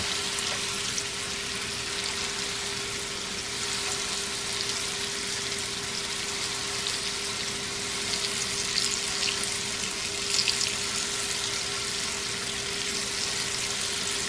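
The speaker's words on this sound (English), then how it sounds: "Let these fry up nice golden brown." Morel mushrooms fry in a full skillet over medium heat, a steady dense hiss of sizzling that holds evenly throughout, close and continuous with no voices.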